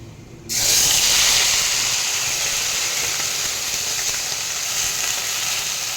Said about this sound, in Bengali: এবার আমি পেঁয়াজ, রসুন, আদার যে পেস্টটা করে রেখেছিলাম সেটা এর মধ্যে দিয়ে দেব।